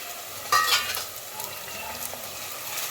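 Bay leaf, cinnamon and cloves drop into hot oil for a mutton curry, setting off a sharp sizzle with a brief clink, then a steady close frying hiss that continues without talk.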